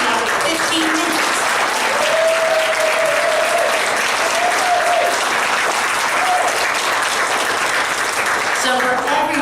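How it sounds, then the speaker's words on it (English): A church congregation gives a warm, sustained round of applause during a service, dense clapping throughout with voices and cheers rising over it. "Let's give one more round of applause for everybody who's worked so hard."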